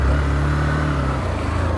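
An XPulse 200 motorcycle labours up a steep dirt trail in first gear, its engine giving a steady, close, mid-pitched drone with a slight dip in pitch partway through.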